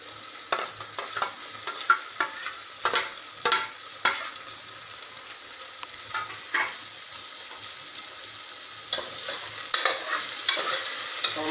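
Chopped onion and tomatoes fry in a pan for whole masoor dal, giving a steady soft sizzle broken by repeated scraping stirs of a spoon against the pot, close and fairly quiet.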